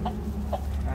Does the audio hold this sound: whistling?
no